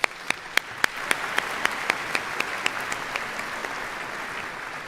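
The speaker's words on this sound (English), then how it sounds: "Please give them another round of applause." Applause rises from the crowd at a university business school commencement ceremony. A steady wash of clapping carries a few sharp, distinct claps close by that grow gradually fainter.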